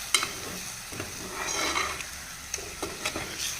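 Boiled eggs being stirred into sizzling masala in a pan, with a steady frying hiss and a few soft scraping stir strokes close by.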